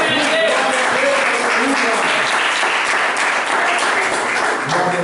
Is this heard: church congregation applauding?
yes